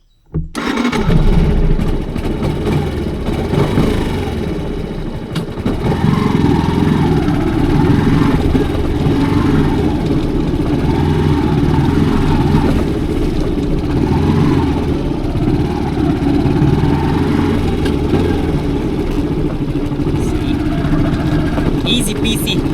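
A motorcycle engine starts with a sudden burst and then runs steadily, loud and close, its rumble persisting continuously on a rough road to a beach in Masbate, with no pauses.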